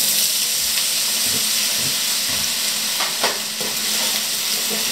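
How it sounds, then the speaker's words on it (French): Loud, steady sizzling as potatoes are poured all at once into hot oil in a frying pan, with occasional soft scraping and stirring sounds. "On verse d'un coup nos patates"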